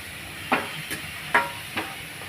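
Bitter gourd pieces dry-roasting in a pan give off four brief, soft scraping stirs spaced about half a second apart over a quiet, steady background hiss.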